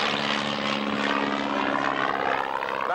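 A propeller aeroplane passes at the Duxford autumn airshow, a steady, loud droning engine roar with pulsing propeller beat and a slight pitch shift as it flies by, with no talking over it.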